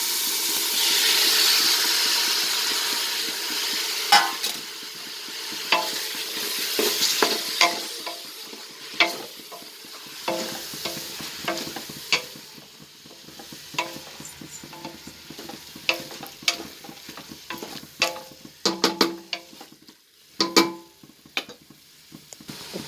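Tomatoes sizzle and fry in a pan for tomato biryani, with steady close hissing and repeated sharp scraping stirs of the spatula throughout, no talking.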